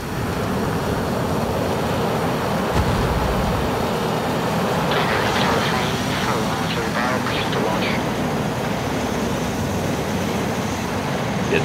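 A Harrier jet launches from an aircraft carrier deck in the video game Carrier Deck, a steady broad jet roar filling the whole stretch with faint voices underneath.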